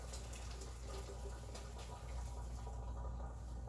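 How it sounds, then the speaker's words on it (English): Blanched broccoli and its cooking water pour into a colander, a steady rushing splash of water, moderately close and continuous, without speech. "So I'm gonna go ahead and drain this off like the recipe says to do. Pour this into a colander."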